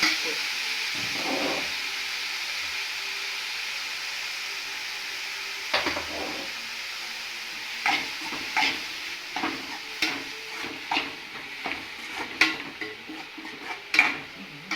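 Beetroot and beans thoran being stirred in a pan, with a soft sizzle underneath and a run of irregular scraping, clinking strokes in the second half, close and fairly quiet with no talk.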